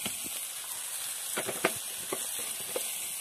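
Turmeric and chili tempering hits hot oil in a home kitchen, giving a steady soft sizzle and hiss with a few faint clicks and pops scattered through.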